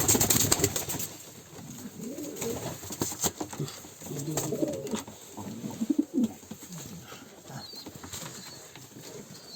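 Soft pigeon coos repeat through the scene, mixed with scattered bird calls and brief rustles nearby, at a moderate, steady level.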